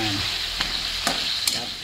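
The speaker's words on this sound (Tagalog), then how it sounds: "Parang nagpiprito tayo." Chicken pieces sizzle steadily in a hot pan, with a few distinct scrapes of a utensil stirring them.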